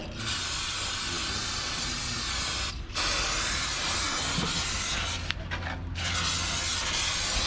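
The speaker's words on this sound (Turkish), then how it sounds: "Buralara da sprey boya aldık." Spray paint can hissing in steady, continuous bursts onto the engine parts of a Mercedes-Benz W211 E320 CDI with a straight-six diesel, close and loud, with a few brief pauses between sprays.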